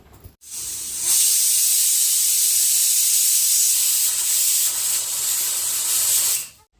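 Pressure cooker releasing a steady, loud hissing jet of steam while boiling peas with salt and turmeric, a continuous broad hiss lasting several seconds after a brief quiet start, then cutting off.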